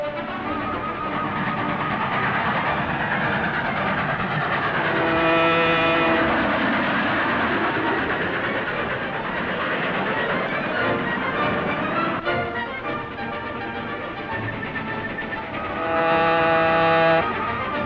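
A moving train in a 1940 film, heard as a loud, continuous rumbling roar with rhythmic clatter, tonal hornlike swells rising near the middle and again at the end.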